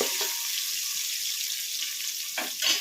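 Chopped mint leaves dropped into a hot pan for hotel-style keema sambar, giving a steady loud sizzle with a brief crackling flare near the end and no talking.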